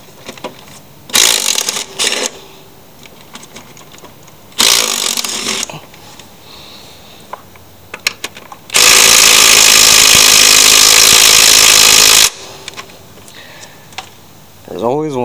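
An impact wrench fires in short, loud rattling bursts while a broken engine is removed from a mower, ending in one long sustained hammering run. Quiet handling noises fill the gaps between bursts.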